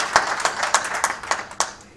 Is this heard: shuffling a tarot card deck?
no